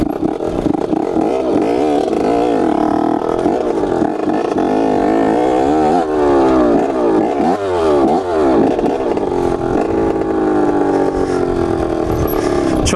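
An 80cc CR motocross dirt bike ridden slowly off-road, its two-stroke engine buzzing steadily close to the microphone with rising and falling revs throughout, no voices.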